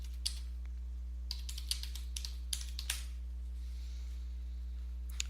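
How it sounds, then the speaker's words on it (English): Keystrokes on a computer keyboard come in short bursts of quick, close clicks with pauses between them, faint over a low steady electrical hum, and nobody speaks. "let me just type in a keyword here"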